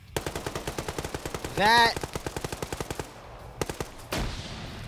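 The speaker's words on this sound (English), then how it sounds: "If the machine gunner didn't kill him, the grenade would have gotten him." Machine gun fire in the video game Wargame rattles out in a fast, even burst of loud, close shots, broken by a brief whooshing effect, then a few last rounds and a muffled blast, with a voice briefly heard.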